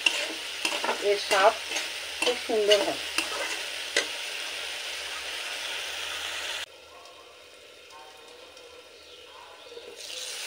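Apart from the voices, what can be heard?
frying masala and tomatoes for fish curry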